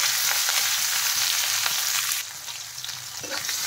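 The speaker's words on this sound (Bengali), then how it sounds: "এখন এর মধ্যে দিয়ে দিলাম কুচনো পেঁয়াজ।" Chopped onions fry in hot oil in a wok with bay leaf, dried chilli and cumin, a loud continuous sizzle close by that drops to a softer crackle partway through.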